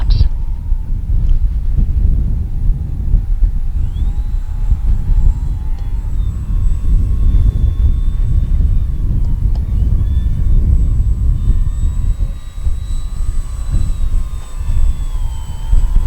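A Dancing Wings Stick 14 RC airplane flies with landing flaps down on an all-terrain maiden flight, its motor whine rising and falling over a heavy, constant rumble of wind outdoors.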